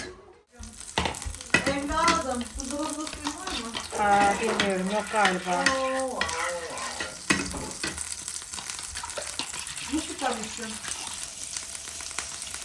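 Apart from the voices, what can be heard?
eggs frying in melted butter in a pan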